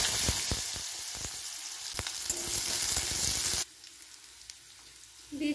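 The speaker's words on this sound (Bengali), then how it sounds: "দিয়ে দিচ্ছি কুচানো আলু।" Chopped potatoes hit hot mustard oil with dried red chillies and nigella seeds, giving a loud, dense sizzle with crackling pops for several seconds before dropping abruptly to a faint, low hiss.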